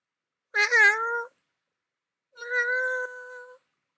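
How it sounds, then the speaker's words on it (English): A domestic cat gives two distinct meows, a longer rising-falling call followed after a pause by a steadier, drawn-out one, close and clear against silence. "my cat's still here"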